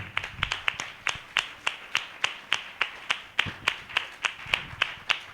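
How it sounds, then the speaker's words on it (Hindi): A church congregation claps together in welcome during a pastor's sermon, about twenty sharp, evenly timed claps in a steady rhythm, fairly near and without talk. "हम जोरदार ताली से उनका स्वागत करें।"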